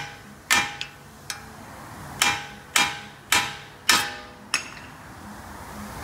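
A hammer strikes the steering knuckle of a Toyota Camry to knock a ball joint loose: seven sharp metallic blows, close and loud, spaced irregularly with ringing decays between them.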